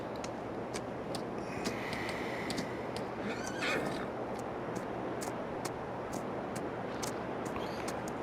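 Horse in Farming Simulator 22 neighing in a whinny around the middle of the clip, set against a steady farm ambience with faint regular ticking clicks and no talking.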